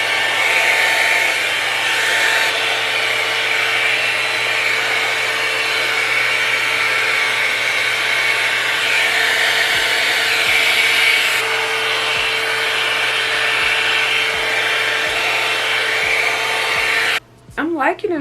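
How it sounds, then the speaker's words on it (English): A dryer comb blow-drying curly Burmese-curl hair, a loud steady close whir holding unbroken for most of the time before cutting off abruptly near the end. "I'm gonna use this dryer comb to kind of get the hair a little bit more"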